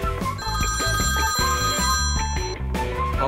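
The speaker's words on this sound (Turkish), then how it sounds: "Aa, telefon çalıyor." A telephone rings in a home kitchen, a bright repeating electronic melody with clear sustained tones over a rhythmic pulsing pattern, loud and close, with no talk.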